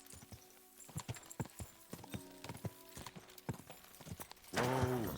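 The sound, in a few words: horse hooves, from video game Kingdom Come Deliverance 2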